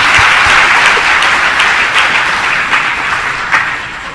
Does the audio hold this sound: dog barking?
no